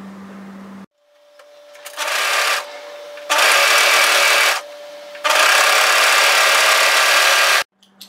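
An overlocker stitches a curved seam through thick, bulky hoodie fabric, running in three loud, steady mechanical bursts of rising length with short pauses between.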